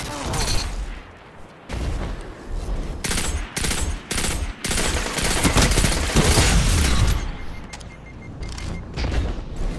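Fusion rifle and other weapons firing in a Destiny 2 multiplayer match, bursts of loud gunfire and booms repeating densely with game effects, while a voice talks over the action.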